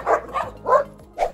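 Small house dogs barking at home, four sharp barks and yips in quick succession, close and fairly loud.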